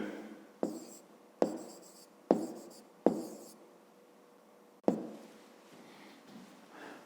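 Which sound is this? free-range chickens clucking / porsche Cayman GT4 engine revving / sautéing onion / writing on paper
writing on paper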